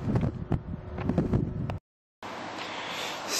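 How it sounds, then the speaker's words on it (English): Wind buffets the microphone in rough gusts, briefly cutting to silence before a steadier rushing wind returns. "And a bit windy, but the wind is cold."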